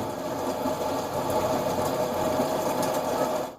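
Rainy-day ambience from the Hyundai Palisade's Sounds of Nature feature: a dense, continuous patter of rain with faint crackling drops, steady and even throughout with no speech.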